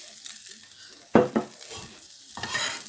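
A spoonful of olive oil heats in a frying pan, giving soft crackling and sizzle with brief louder bursts and scrapes of a utensil against the pan, fairly quiet and without talk.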